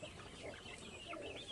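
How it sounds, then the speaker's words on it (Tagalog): Pet chickens clucking in a backyard, soft continuous murmuring clucks and small calls at a moderate distance, faint and alone without talk. "update tayo sa ating mga alagang manok"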